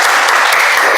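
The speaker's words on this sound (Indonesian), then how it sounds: "Silakan berikan aplaus kepada Cica." An audience at a university teaching session applauds, a brief, dense burst of many hands clapping together, loud and close throughout, with no voices over it.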